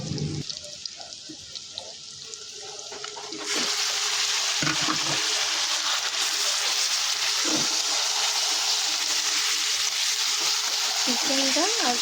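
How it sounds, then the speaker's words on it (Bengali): Skin-on chicken pieces and onion fry in a pan. Once the chicken goes in, the sizzle jumps to a steady, loud hiss, broken by a few scrapes and stirring clatters. "চিকেনটা আর পেঁয়াজটা আমরা একটু ভালো করে ভেজে নেব।"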